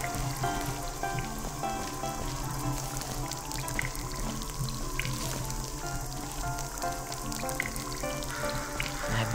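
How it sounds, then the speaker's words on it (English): Water drips in the video game Portal Stories: Mel, sounding as a scatter of small drops over a dense, steady ambient bed that runs the whole time without a break. "I have no idea what's making that dripping sound"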